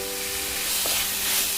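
Shredded chicken goes into a pan of sautéed onions and sizzles loudly, a dense, steady frying hiss with a faint stirring clatter in the pan and no voices.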